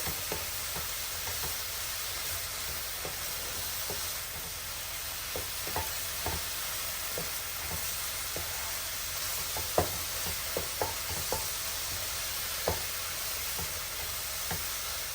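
Chicken pieces with garlic, salt and pepper sautéing in a pan, a steady close sizzle with scattered clicks and scrapes of stirring throughout, no talking.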